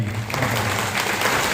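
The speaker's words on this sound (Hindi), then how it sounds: "तालियों से स्वागत करेंगे।" A brief stretch of loud, dense applause from a crowd at a community anniversary gathering in a hall, clapping continuous under a low steady hum.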